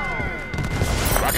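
Gunfire and explosive impacts in Halo 5 multiplayer, a dense, loud barrage of shots and thuds with a tonal game cue mixed in, brief and continuous.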